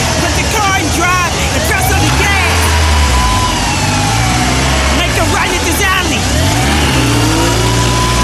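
A car engine revs up loudly and roars as the vehicle pulls away, with shouting voices and street commotion mixed over it throughout.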